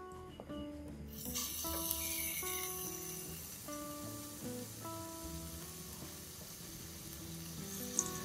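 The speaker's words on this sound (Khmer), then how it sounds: "ដាំវាឲ្យក្តៅសិមយើងដាក់ត្រីយើងចូល" A sudden loud sizzle bursts in after a second and keeps hissing steadily as something fries in hot oil, with soft music playing underneath.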